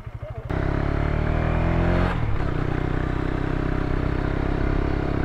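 A KTM Duke 250 motorcycle climbs an uphill road, its engine droning loud and close with a steady throaty roar that shifts pitch as it pulls, a brief lull midway, and faint talk underneath.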